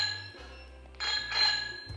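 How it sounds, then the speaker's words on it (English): Electric horn of an Apollo Explore V1 scooter, a bright bell-like chime sounding in two short bursts, close and clear with no talking. "we have the horn, which sounds like this"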